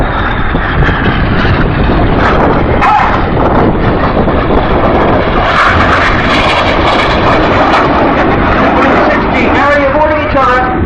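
Display jets roaring overhead at the Farnborough Airshow in 2014, a loud continuous engine roar swelling and fading as the aircraft turn, with a commentator talking over it throughout.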